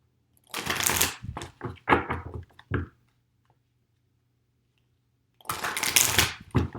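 Moonology affirmation cards being shuffled and pulled, two bursts of close riffling and flicking, the first broken into several short shuffles, separated by a few seconds of near silence.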